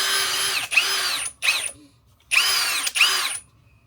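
A cordless drill set to its first, lower speed spins up in bursts, running in four separate spells of about half a second to a second each with short pauses between, loud and close, with no talking.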